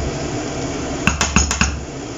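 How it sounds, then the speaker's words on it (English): Fried potatoes in tomato sauce are served onto a plate in a kitchen: a few sharp clinks of a utensil on the dish sound close by over a quiet background. "So I'm just going to serve it on a plate"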